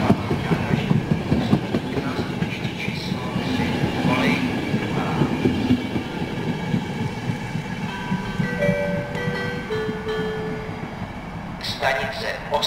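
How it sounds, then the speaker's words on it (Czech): A RegioJet Intercity train pulls into platform 4, track 3 at Ostrava Svinov station, arriving from the Havířov direction, with a steady low rumble of rolling cars, wheel clatter and a brief squeal near the end, loud and close. "vlak Intercity číslo 1010 Regiojet ze směru Havířov přijel k nástupišti číslo 4 kolej 3"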